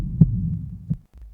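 Gothic heartbeat sound effect from a reading of Poe's Tell-Tale Heart: two deep, muffled thumps a beat apart over a low rumbling hum, then a brief near-silence.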